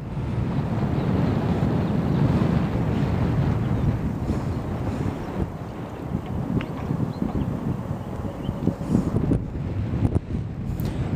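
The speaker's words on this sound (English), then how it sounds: "Now the wind has increased a little bit, more gusts." Gusty wind buffets the microphone outdoors while a model glider is flown, a steady loud low roar that swells and eases with gusts for the whole stretch, with no voices.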